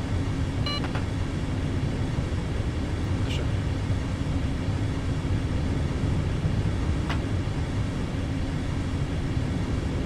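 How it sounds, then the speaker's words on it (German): A train runs in the Zusi 3 train simulator on a route to Sylt. A steady, loud rumble of wheels and motor holds for the whole stretch, with a few faint clicks on top. "Kann man übrigens auch fahren hier in Susi, den Zug."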